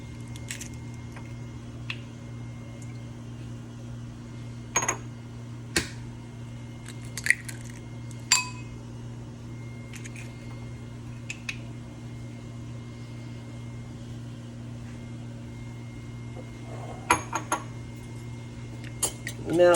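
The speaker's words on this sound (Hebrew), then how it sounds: "אני שוברת את הביצים לקערה" Three eggs cracked one by one into a bowl for an oil-free coconut cake: a few sharp, sparse taps and clinks against the bowl over a steady low kitchen hum.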